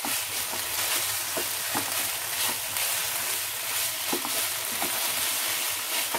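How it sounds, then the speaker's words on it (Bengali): Cauliflower florets being stir-fried and browned in a pan for a Bengali fulkopi roast, a steady sizzle with recurring scraping strokes of the spatula, fairly close and alone. "এরপর দিয়ে দিচ্ছি ফুলকপিটা, ফুলকপিটা দিয়ে খুব ভালো করে কষিয়ে নিতে হবে।"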